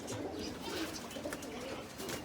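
Pigeons coo steadily and fairly close, soft throaty calls repeating over a constant outdoor background hum.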